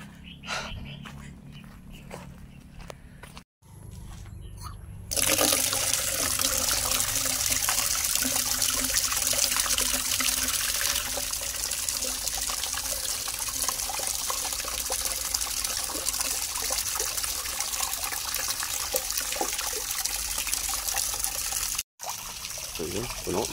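Water runs from a tap into a container, a steady loud rushing stream that starts after a few seconds of quieter outdoor sound and keeps pouring with little change, briefly cut off near the end.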